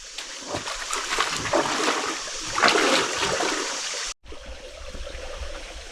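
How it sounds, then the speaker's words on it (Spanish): Water trickling and splashing in a shallow mountain stream near the Genal river, a steady close rushing that swells midway, then cuts off abruptly to a quieter, fainter flow. "el arroyo venía seco, aquí tiene un poquito de agua"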